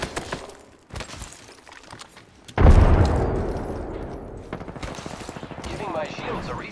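Apex Legends gunfire, scattered shots at first, then a loud explosive burst followed by rapid automatic fire continuing steadily to the end.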